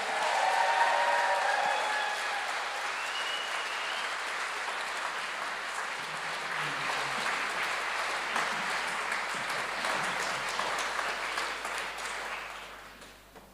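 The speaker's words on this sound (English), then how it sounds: "A fantastic round of applause for Liz Lochhead." Sustained audience applause at an evening literary event celebrating Alasdair Gray's Dante translation, a dense wash of clapping from a full room that holds steady before fading out near the end.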